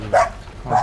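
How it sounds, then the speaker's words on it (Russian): Two short dog barks, separated by a brief pause, sound fairly close in a quiet outdoor setting in war-affected Bucha, Ukraine. "Это наши собаки."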